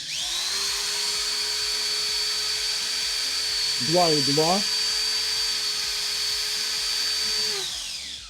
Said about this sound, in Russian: Мы можем сюда добавить, допустим, дрельку.